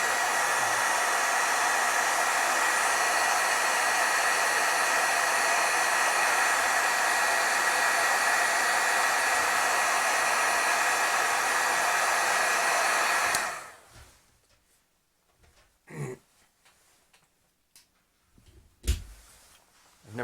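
A heat tool blows hot air over stamped artwork, a loud steady whooshing hiss for about thirteen seconds, then it stops and a few soft handling bumps follow.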